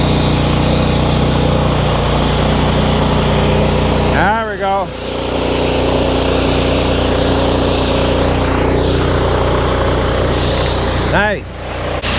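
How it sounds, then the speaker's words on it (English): An engine-driven water pump at a remote property runs loud and steady with a constant droning rumble, and a brief whistling squeal rises twice over it. "once this pump started sucking out of there like full, that thing was wicked, amazing"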